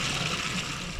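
Street water pouring into a rainwater cistern, a continuous rushing, splashing flow that stays loud and even for about a second with no talking.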